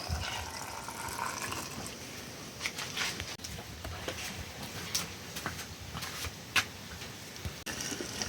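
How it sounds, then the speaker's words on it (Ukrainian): Boiling brine poured from a pot over tomatoes packed in jars makes a continuous splashing, gurgling fill with small bubbling patters, close and moderately loud, with no talking. "Заливаємо тепер кипяточком."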